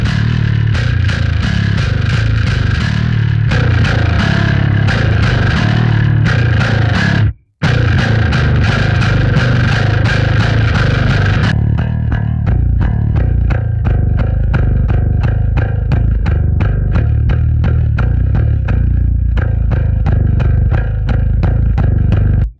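A heavily distorted bass guitar plays loud, gritty riffs, then cuts briefly and returns with a thinner, cleaner, percussive tone of plucked notes.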